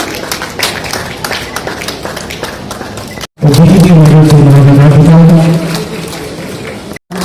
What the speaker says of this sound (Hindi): तालियों के साथ इनका हौसला अफजाई कीजिए।